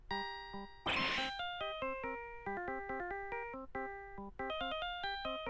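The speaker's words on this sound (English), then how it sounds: "And what's with the stupid sounding ringtone?" A cell phone ringtone from the Phoenix Wright: Ace Attorney video game plays a quick, bright chiming melody of repeated electronic notes, with a short burst of noise near the start.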